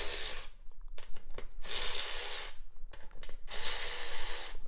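A ratchet loosens bolts on an off-road Jeep bead-lock wheel ring, producing loud, close bursts of rapid clicking separated by short pauses as each bolt turns.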